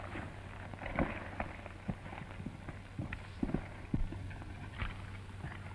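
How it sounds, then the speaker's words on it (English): Hooves of a riderless horse clip-clop in an uneven, loose rhythm over a low steady hum, with scattered sharp knocks rising above the background, in a 1938 western film. "A riderless horse coming off the summit?"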